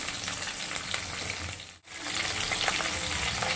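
Green chillies and curry leaves frying in hot oil: a continuous close crackling sizzle with stirring noise, briefly cut off for a moment in the middle before resuming just as strongly.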